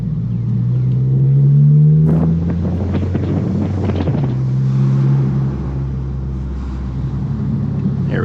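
A Toyota Corolla Hatchback fitted with a 2J Racing catback exhaust, driving, heard from inside the cabin: a deep, steady low drone that swells slightly as the engine revs rise and settle, with wind rumble layered over it.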